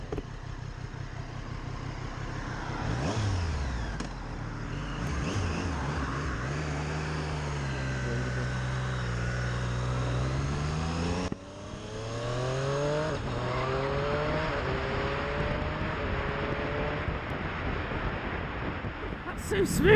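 A Triumph Street Triple RS motorcycle on a track roars through rising and falling engine revs, with quick-shifter upshifts and a brief cut in the exhaust note. The sound is loud and continuous, heard from the rider's position.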